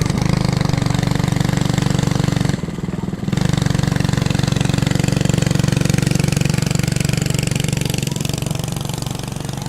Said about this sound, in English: It's got a lawnmower motor on it.